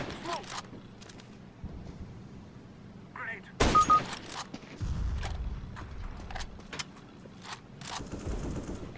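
Scattered revolver gunshots in CS:GO crack through a busy mix of game noise and a talking voice, including one louder burst midway.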